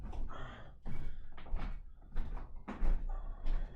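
An indoor door shuts with a few dull thuds and bangs at moderate distance, irregularly spaced across a few seconds, with no one talking over it.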